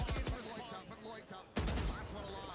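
Rapid gunfire bursts in the Valorant video game during an EWC esports playoff match, a short volley, a pause, then another dense burst, with a commentator's voice running underneath.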